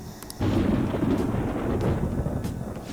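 Thunder from the Persona 5 Royal video game rolls in as a deep, sustained rumble after a brief quiet start, heavy and steady with no talking over it.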